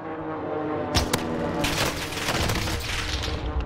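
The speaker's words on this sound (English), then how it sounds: "Target box for airstrike." Airstrike explosions in Call of Duty: Warzone, a couple of sharp booms followed by a rolling barrage of heavy blasts and rumbling that sustains to the end.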